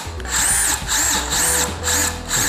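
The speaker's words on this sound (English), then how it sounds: "Drill that pilot hole." A power drill bores a pilot hole for a hinge cover on a 2022 Harley-Davidson Road Glide ST, four short whirring bursts that rise and fall in steady rhythm, close and loud.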